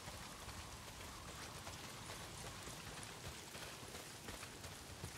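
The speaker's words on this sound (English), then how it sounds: "not if it's pissing down rain" Heavy rain pours in the video game Days Gone, a faint, steady wash of dense drops with no break and no voices.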